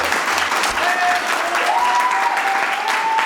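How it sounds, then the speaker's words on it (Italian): Audience applause at a comedic performance, steady clapping from a crowd filling the whole stretch at an even, lively level. "Sanremo e Santa Caterina da Siena, un grande applauso!"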